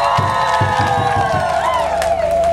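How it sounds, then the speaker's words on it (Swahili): A crowd at an Uhuru Torch rally in Njombe cheers loudly with sustained high voices and a few scattered claps beneath, close and continuous. "Makofi mengi sana kwao."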